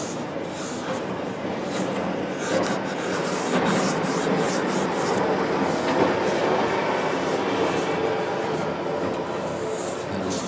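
Steady abrasive rubbing of sandpaper over the edges of a wooden school desk seat, a continuous close scratchy hiss that rises and falls slightly in strokes, with no talking.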